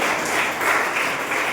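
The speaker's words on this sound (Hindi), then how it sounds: "तो एक बार तालियों से स्वागत करें गौरव सिंह को।" An audience at a quiz show applauds to welcome a contestant, a dense, steady wash of clapping that stays loud for the whole stretch, with no voices on top.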